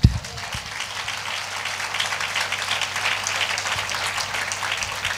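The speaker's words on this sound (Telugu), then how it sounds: "చప్పట్లు కొట్టండి" A church congregation claps at a Sunday service, a sharp burst at the start giving way to a sustained, even wash of hand claps that continues to the end.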